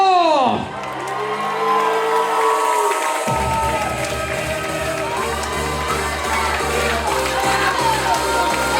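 A wedding reception crowd cheers, whoops and claps loudly and continuously for the man of honor, with a swelling burst of shouting and applause after a brief opening.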